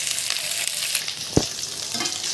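Boiled chicken pieces fry with garlic in a pan, a steady sizzle broken by a sharp clatter of stirring near the middle.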